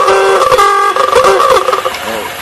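A 1930 Ford Model A's ooga horn sounds in loud, wavering honks that run across the whole burst, close by, with the car's engine running underneath and no talk over it.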